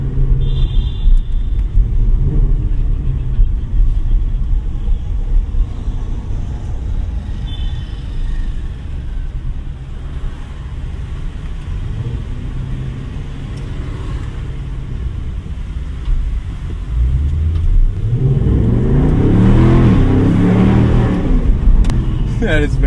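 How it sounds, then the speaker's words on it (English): A new Ford Mustang GT's engine rumbles steadily from inside the cabin during manual-mode driving, then swells into a loud rising rev near the end as it downshifts, with a voice talking over the drone. "Manual mode right here. Let's do some downshifts."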